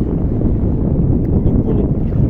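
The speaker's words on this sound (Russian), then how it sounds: "Ветер вроде бы и стихает, и вроде бы не стихает." Steady wind blowing across a lagoon (Tiligul estuary) during rowing on a fishing trip, a loud, constant rushing roar with microphone buffeting and no other clear sounds.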